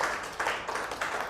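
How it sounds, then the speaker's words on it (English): A group at a drug awareness session clapping for students' answer, a short burst of close hand claps in a few uneven surges, with no talk. "Let's give them a clap."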